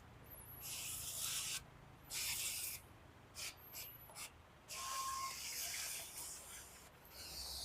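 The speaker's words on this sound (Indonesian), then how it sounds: "Semprotin di daunnya aja kayak gini." A hand spray bottle mists the leaves of a moth orchid in a series of short hissing bursts, some quick and clipped, others longer, close by and fairly soft with quiet pauses between.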